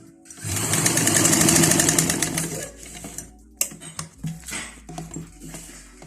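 A sewing machine runs in a steady, fast stitching burst for about two seconds while sewing the side seams of trousers, followed by scattered clicks and handling noises.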